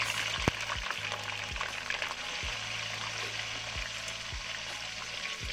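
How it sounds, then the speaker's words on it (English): Continuous hissing sizzle of green beans frying in hot oil, with a few faint clicks and clatters over the crackle. "I put all the green beans. I gonna fry about 30 seconds"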